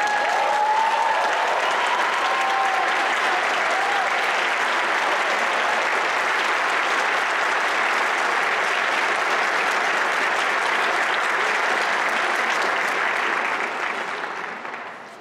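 Sustained audience applause fills a birthday celebration hall honoring Dr. Martin Luther King Jr. in Milwaukee, a steady dense wash of clapping from a large crowd that holds level for about fourteen seconds before tapering off at the end.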